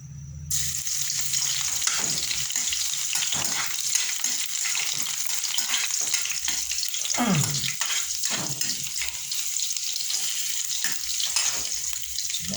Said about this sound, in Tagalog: Para mas sumarap ng kaunti, gigisa natin.